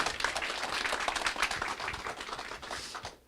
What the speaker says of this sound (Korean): 박수 쳐주신 분들 건강하십시오